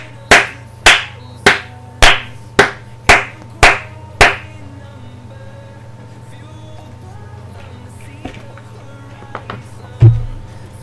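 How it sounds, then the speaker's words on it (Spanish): Eight loud, evenly spaced hand claps ring out in a slow rhythm, then quiet room noise with a few faint knocks and a thump. "¡Un aplauso al Stoke City!"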